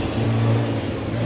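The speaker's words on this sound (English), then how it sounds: "Edward Townsend just sliding the MG around as he comes up towards Ettores." An MG race car slides through a bend on a hillclimb course, its engine holding a steady mid-pitched drone, close and loud, with no talking over it.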